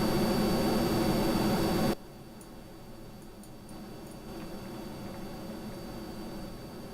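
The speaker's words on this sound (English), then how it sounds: "No, not these ones. These are ramjet engines." Ramjet engines on a craft in Kerbal Space Program roar as a loud, steady broadband rush for about two seconds. The sound then drops abruptly to a quieter, even hiss with a few faint ticks.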